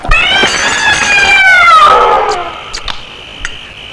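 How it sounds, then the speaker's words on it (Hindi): A cat meows loudly in a long, drawn-out, descending cry, followed by a few faint clicks and soft background noises, with no one talking. "इस बिल्ली को खाने की टेबल से दूर रखा करो"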